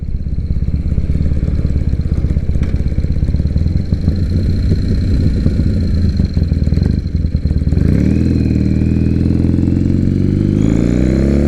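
Triumph Bonneville motorcycle engine on the move, a loud, steady rumble heard up close that climbs in pitch as it revs through the gears.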